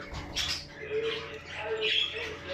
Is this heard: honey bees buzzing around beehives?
no